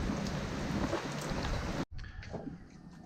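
Rain falling around a sailboat in Linton Bay Marina, a dense steady hiss of drops that cuts off abruptly partway through, then resumes as softer patter on surfaces.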